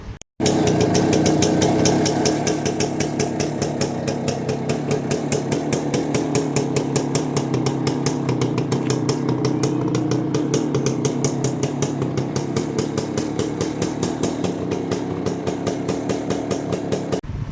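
A 1977 Carabela TS100 two-stroke motorcycle engine runs steadily near the listener, a rapid buzzing putter with a fast even pulse and a slight knocking rattle, unbroken and with no talking.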